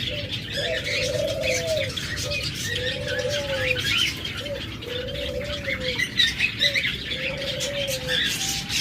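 Pet lovebirds, cockatiels and budgerigars for sale, giving a steady series of soft, low cooing calls spaced a second or so apart, with bright chirps and tweets scattered over them and no talking.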